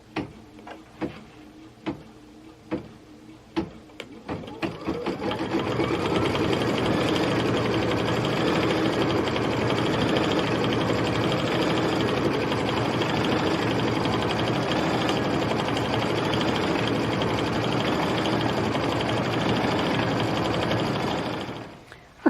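An embroidery sewing machine stitching a quilt design starts with a few separate ticking clicks, then runs at a steady, close, continuous whirring hum for about fifteen seconds before stopping, no talking.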